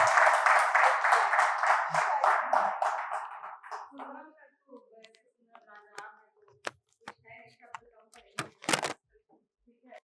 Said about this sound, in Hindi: एक बार तालियां होस्ट के लिए भी बजा दो यार।